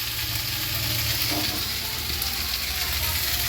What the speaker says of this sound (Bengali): গরম জল ঢেলে দিচ্ছি।